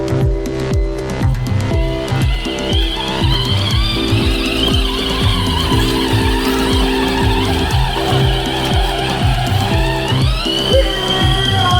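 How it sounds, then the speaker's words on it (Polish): A new kids' electric 4x4 ride-on buggy with 200W motors drives steadily, its whining electric motors and rolling wheels humming continuously and close for the whole stretch, with the pitch rising near the end. "Nowiutkie bagi z napędem na cztery koła, z mocnymi silnikami 200-watowymi."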